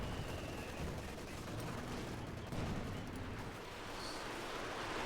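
MG-42 machine gun fire in the Company of Heroes 2 video game, a steady dense rattle of gunfire blended into constant loud battle noise without clear breaks.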